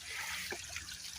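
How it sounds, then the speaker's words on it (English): A small waterfall runs during the spring thaw, giving a steady close trickling and babbling of water, faint and continuous, with no voices. "the water's running now at the waterfall, and I think it's just beautiful"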